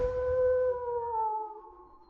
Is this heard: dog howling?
yes